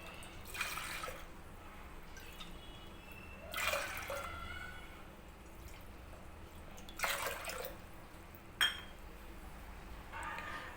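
Water pours from a cup into a pressure cooker holding toor dal, heard as four short, faint splashing pours spaced a few seconds apart over a low, quiet kitchen background.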